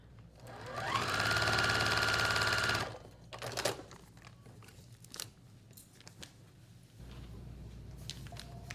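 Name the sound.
sewing machine stitching quilt pieces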